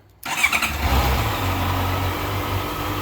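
A stock 2014 Honda CBR 650F motorcycle engine catches after a brief silence and settles straight into a steady, smooth idle, close by and fairly quiet, with no one talking.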